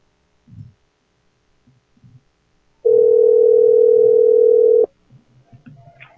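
A telephone ringback tone sounds as one steady, loud electronic buzz lasting about two seconds, with faint clicks and line noise before and after it during a call.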